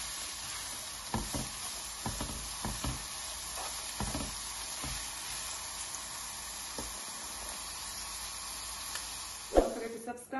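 Onions for king fish biryani sizzle steadily in a hot pan, a soft continuous hiss broken by a few stirring knocks and scrapes, with a louder clatter near the end.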